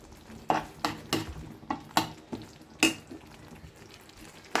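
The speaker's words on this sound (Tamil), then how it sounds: "நம்ம நல்லாவே தழவி கொடுத்துடலாங்க." Potato manchurian stirred through masala gravy in a pan, giving a series of close scraping, sizzling strokes in an uneven rhythm with no voices.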